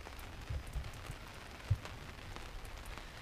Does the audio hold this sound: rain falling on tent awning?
yes